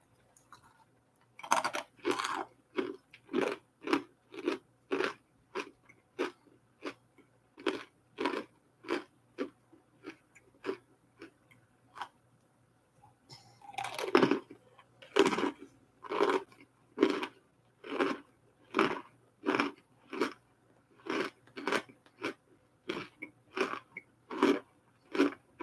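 A crunchy snack is bitten and chewed close to the mic in steady, repeated crunches, about one every second, with a short pause midway before the rhythmic chewing resumes, and no speech.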